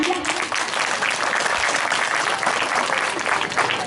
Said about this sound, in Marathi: या टाळ्या वाजून द्या